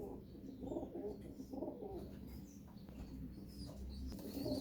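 Cooing of a cross-bred pigeon held among other pigeons, soft repeated murmuring coos with faint wing flutters over a steady low background hum.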